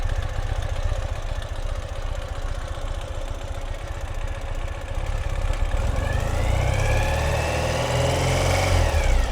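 A 2016 Ural Limited Edition motorcycle engine runs steadily at a low idle, close and loud with no talk, then rises into a brief rev near the end.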